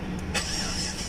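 A Chevrolet Caprice LS with a 6.0L V8 catches almost instantly, a brief loud starter burst settling into a steady, dense engine rumble.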